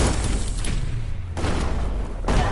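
Bomb lobber explosions from the video game Biomutant boom in dense, loud, overlapping bursts, with a short break and a fresh blast near the end.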